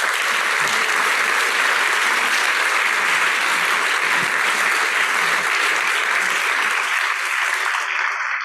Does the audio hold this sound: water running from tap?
no